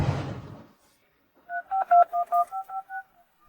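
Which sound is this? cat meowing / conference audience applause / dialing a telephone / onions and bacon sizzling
dialing a telephone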